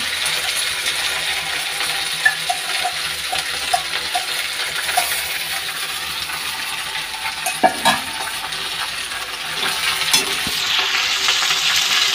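Semolina pasta already mixed with tomato sauce hits a hot pan and fries with a steady, close sizzling hiss, broken by occasional small clinks and scrapes of stirring; no one speaks.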